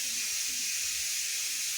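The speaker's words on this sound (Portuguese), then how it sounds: "a panela de pressão" A pressure cooker on a home stove lets out a steady, continuous hiss of escaping steam, even and unbroken across the moment, moderately loud and close with no talking.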